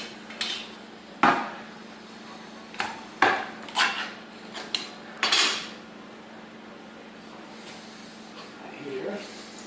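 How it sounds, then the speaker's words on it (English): Cans of peaches being opened and tipped into a saucepan on a stove: a run of sharp metallic clanks and knocks, several close together early on, then a softer scrape near the end, over a steady low hum. "open up both cans of peaches and put them in the saucepan on the stove"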